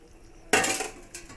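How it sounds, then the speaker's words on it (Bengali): Fried rohu fish pieces go into a pot of curry spiced with cumin, setting off a sudden loud hissing burst that fades, then a second shorter splash of sizzle, with faint kitchen clatter. "ভাজা মাছগুলো দিয়ে দিলাম।"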